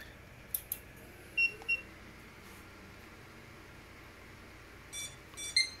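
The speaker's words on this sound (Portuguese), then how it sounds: "Vamos aqui ligar o PC, finalizar esse bagulho, essa bagaça." A desktop PC with an RX580 graphics card being switched on, giving a few short, faint beeps and clicks spread over a low background hum.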